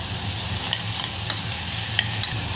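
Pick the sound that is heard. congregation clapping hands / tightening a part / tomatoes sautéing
tomatoes sautéing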